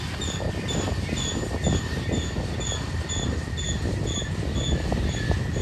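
San Joaquin Valley Railroad locomotives 1825, 1826 and 1829 pulling a train past, a steady close rumble with rhythmic high wheel squeal repeating throughout and no voices.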